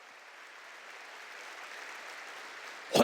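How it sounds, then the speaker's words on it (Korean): A church congregation applauds during a Sunday sermon, with steady clapping that builds gradually and holds at a moderate level, ending with a sharp, louder burst of nearby claps. "박수를 치려면 치고 말려면 말고."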